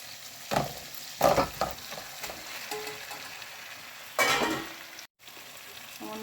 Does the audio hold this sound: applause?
no